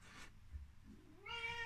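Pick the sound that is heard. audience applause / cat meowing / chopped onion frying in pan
cat meowing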